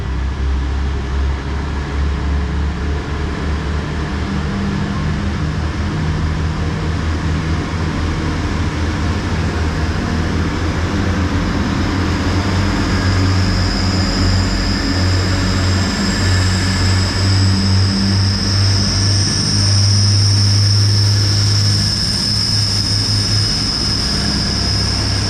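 An East Midlands Railway Class 180 diesel unit, number 180-113, on a London St Pancras to Nottingham service, passes loudly close by with a sustained heavy engine roar and a rising whine that persists throughout.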